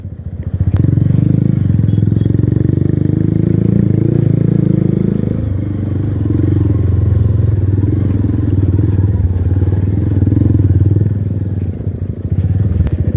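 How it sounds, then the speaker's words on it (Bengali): A motorcycle engine drones steadily at close range while the bike rattles and clatters over rough off-road ground, with occasional thumps. "অফ রোডিং হয়ে যাচ্ছে, বাইক পুরো ঝনঝন করছে"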